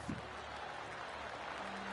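Crowd applause at a golf tournament win in the video game PGA 2K23 rises as a faint, steady patter of clapping under a low background hum.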